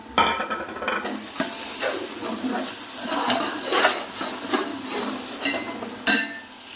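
Whole cumin seeds sizzling in hot oil for vegetable pulao, a loud close hiss with spatula stirring and scraping throughout, no voice.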